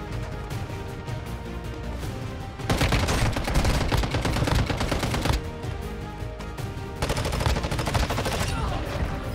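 Rapid gunfire in the Warzone Mobile video game, dense bursts of shots in two louder waves over continuous background battle noise, close and heavy, with a voice briefly under it.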